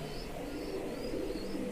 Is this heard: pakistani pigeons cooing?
yes